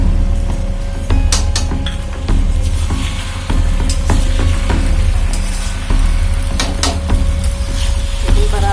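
Macaroni is stirred as it fries in a pan with spices, a steady close sizzle broken by repeated scraping and clacking strokes of a spoon.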